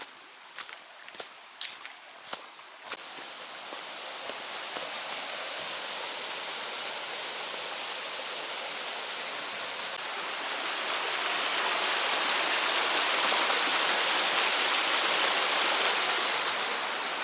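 A five-tiered waterfall on a forest trail from the Inuyama campground sends up a steady broad rush of falling water that grows louder toward the end, with a few close footsteps on the path at the start.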